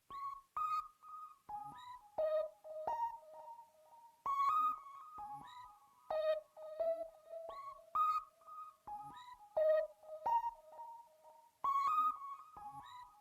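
Zeta 111 lead synth from the Celestial bank plays a whistly, gliding melody of short phrases with pitch bends and brief gaps, clear and alone.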